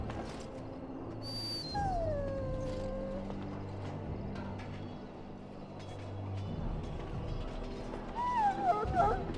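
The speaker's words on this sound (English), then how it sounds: "This is a Mabari." A Mabari war dog in a fantasy video game whimpers in high, wavering whines, heard at about 2 seconds and again near the end over a busy game soundscape with hoof clops and low ambient drones.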